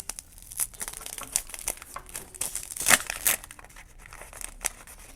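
A paper surprise packet is opened by hand, with close, crisp crinkling and tearing in irregular bursts, one louder rip partway through, and no talking.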